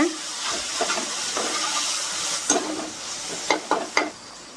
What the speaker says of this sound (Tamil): தக்காளி வந்து நல்லாவே குக் ஆகிடுச்சு இதை அப்படியே மசிச்சு விட்டுக்கோங்க